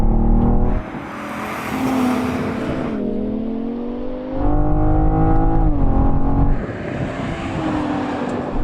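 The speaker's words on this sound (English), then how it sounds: "Let's do another rolling race from 50 miles an hour." A BMW M5 V10 Touring and a BMW M440i drag race from a rolling start at 50 mph, locked in third gear. A loud, sustained engine roar climbs in pitch, with clear drops and shifts at gear changes.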